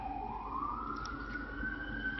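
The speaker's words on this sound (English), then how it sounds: "Hear that siren?" A siren wails, its pitch slowly rising, heard from a moderate distance over a low background hum.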